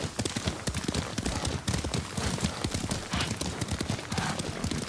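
Horse hooves clip-clop in a steady, quick rhythm as a horse is ridden in the video game Ghost of Tsushima, close and continuous throughout.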